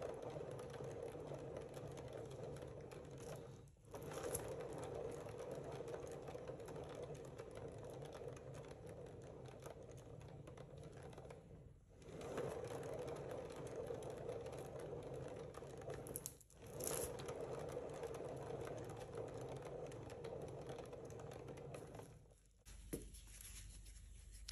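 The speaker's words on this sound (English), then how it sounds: "So I'm just going to give that a light spin." A small motorized paint spinner whirs steadily as it spins a fluid art painting, a faint continuous mechanical hum with a few brief dips, and no one speaks.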